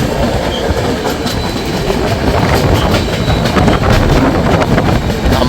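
Shalimar SF Express running past Bauria on the Puri to Shalimar run, a steady close rumble of wheels with rhythmic clickety-clack over rail joints throughout, loud and unbroken.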